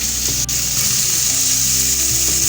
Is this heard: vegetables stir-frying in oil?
yes